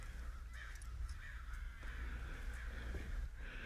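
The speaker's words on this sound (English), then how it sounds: "we've got a murder of crows in our garden" Several crows caw in a garden, repeated harsh calls at moderate distance over a steady low background hum, no voices.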